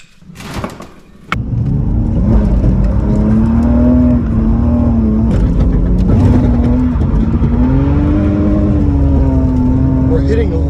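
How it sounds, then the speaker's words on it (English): A cheap drift car's engine revs hard and holds against the rev limiter in second gear, a loud, steady droning close by, with people talking over it. "We're hitting a limiter in second."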